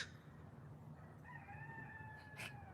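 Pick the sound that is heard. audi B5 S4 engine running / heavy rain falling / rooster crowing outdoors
rooster crowing outdoors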